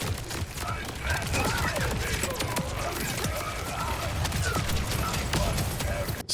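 Dense, steady gunfire from a Borderlands 4 shooter game, rapid bullets cracking over a busy background mix without a pause.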